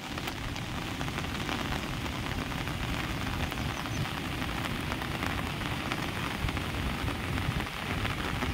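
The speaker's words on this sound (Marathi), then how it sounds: "जोरदार पाऊस सुरू आहे।" Heavy monsoon rain in coastal Ratnagiri pours down in a steady, dense, loud hiss that lasts the whole stretch without a pause, with no voices.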